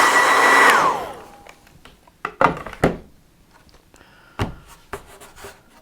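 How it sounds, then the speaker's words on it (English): A hair dryer, used to dry masking fluid on a watercolour painting, blows loudly for about a second and then switches off, followed by scattered rubbing and tapping noises. "I'm just going to speed this up a little bit with the hair dryer."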